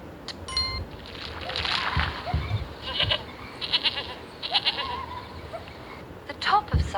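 A goat bleats several times in short, wavering calls, with splashy background noise and a voice speaking alongside.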